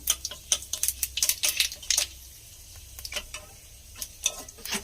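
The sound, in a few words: panch phoron spices sizzling in hot oil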